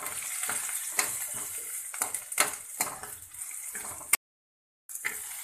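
Poppy seeds and fenugreek fry in a pan for South Indian veg sagu, a soft steady sizzle broken by repeated scraping stirs of a spoon, close and fairly quiet, with a brief silent gap near the end.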